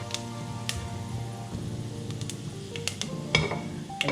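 Hot oil sizzles steadily with scattered sharp pops and crackles as whole spices, cinnamon, cloves and fennel seeds, splutter in a pan, close up and without voices.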